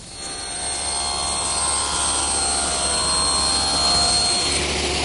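A table saw rips a 3.5 degree bevel along the edge of a pine board, a loud steady whining drone held evenly for several seconds with a low motor hum beneath.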